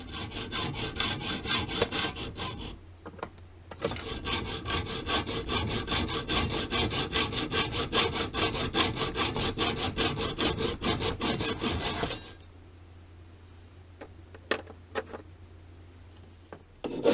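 A hand saw cuts slices off metal stock for cyclekart steering in a small shed, with close, steady rhythmic rasping strokes that run continuously for about twelve seconds, then stop and leave a faint hum.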